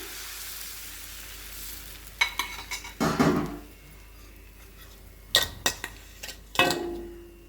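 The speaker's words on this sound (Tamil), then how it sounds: "நம்ம திரும்ப 2வது தோசை ஊற்றும் போது அடுப்பை வந்து ஸ்லோ ஃப்ளேமில் வச்சுக்கிங்க" Sweet coconut dosa batter sizzles on a hot griddle over a low flame, with a steady quiet fry broken by several sharp scraping and clinking bursts from a ladle or spatula against the pan.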